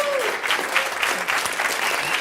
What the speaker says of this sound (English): Can you join me in a big round of applause for the organizers, please?